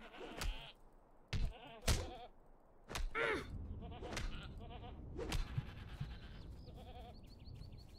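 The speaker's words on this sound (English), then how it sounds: "More goats are coming." Goats bleating in the Lord of the Rings Online video game, several sharp cries in quick succession over a busy background of game sounds.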